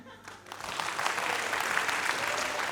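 Audience at a stand-up comedy show breaks into steady applause that builds quickly and holds as a dense, even patter of clapping, fairly close and without talk.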